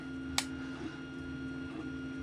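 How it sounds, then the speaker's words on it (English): A steady mechanical hum with faint whirring tones from a running 3D printer, one sharp click near the start, no talking. "I apologize for the noise in the background. That's my 3D printer going away."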